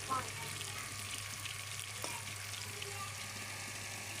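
Chicken frying in a pan gives a steady, moderate sizzle that runs throughout without a break, with a faint low hum underneath and a small clink near the middle.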